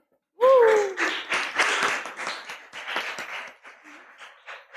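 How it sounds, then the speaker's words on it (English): Audience applause greeting the next speaker at a talk event, a dense burst of clapping starting loud and gradually thinning and fading over several seconds, with a brief voice at the start. "A round of applause for him."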